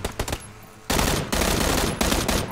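Bursts of automatic gunfire in PlayerUnknown's Battlegrounds, a few scattered shots at first, then sustained loud rapid fire with dense crackling volleys running to the end, no talking.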